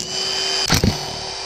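Valve cover bolts on a 2.4-liter Jeep Patriot engine are loosened with a single short burst of a power driver, under a second long, rising briefly over a steady background hum.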